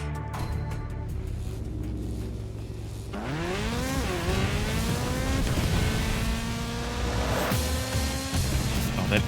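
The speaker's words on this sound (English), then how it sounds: "That engine sound." Racing car engine in the video game Split/Second revs up sharply and climbs through rising gear sweeps, a loud, close, continuous whine with layered engines and tire noise, no voices.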